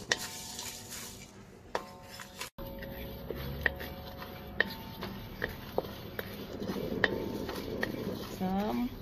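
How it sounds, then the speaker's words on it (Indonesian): Biryani spices are dry-roasted in a pan without oil, with a metal utensil clinking and scraping against the pan in scattered knocks over a soft, quiet background sizzle. "Sekarang ni kita goreng di tanpa minyak ataupun ada orang panggil dia sangar, ada panggil sangrai"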